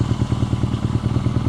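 A BMW R nineT Scrambler motorcycle engine runs with a steady pulsing throb and faint mechanical clatter while riding in Prague city traffic over cobblestones and rails, loud and close.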